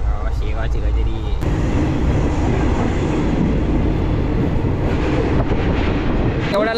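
An Indian Railway long-distance train on the Mumbai to Kolkata route runs at speed near Shegaon, heard from inside a second AC coach as a loud, continuous rumble and rattle, with someone talking over it at the start.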